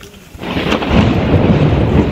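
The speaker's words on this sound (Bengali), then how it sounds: "বিদ্যুৎ চমকাচ্ছে তার মধ্যে" Deep thunder rolls through a rainstorm, starting soft and swelling after about half a second into a loud, sustained rumble that fills the rest of the clip, with no voices.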